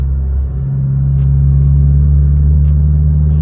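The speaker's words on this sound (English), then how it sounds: "obviously you can hear the car has an exhaust on it" Steady low rumble from a 2022 Subaru WRX engine with an aftermarket catback exhaust while driving, a deep droning hum holding constant at cruising pace with a slight dip early on, loud and close, no voices.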